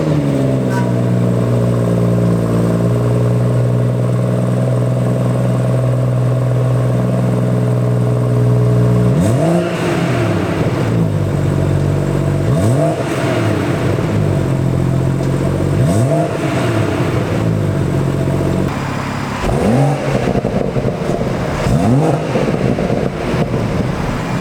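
A BMW M140i engine idles with a steady low hum, then revs repeatedly in strong rising bursts, loud and close from inside the car, with a voice talking over it.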